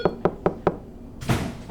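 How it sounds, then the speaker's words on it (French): Four evenly spaced knocks on a door, crisp and close, followed by a brief burst of broader noise as the sequence ends. "il n'entend pas qu'on frappe à sa porte."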